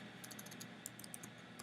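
Quick, light keystrokes patter on a computer keyboard as a website address is typed, a close, steady run of soft clicks with no talking.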